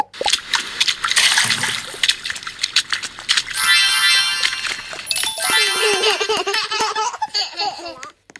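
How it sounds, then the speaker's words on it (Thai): Water splashes and trickles while a child is bathed in the video game Twilight Daycare, mixed with baby laughter and squeals, fairly loud and continuous with bright watery bursts throughout. "พาเด็กไปอาบน้ำก่อน"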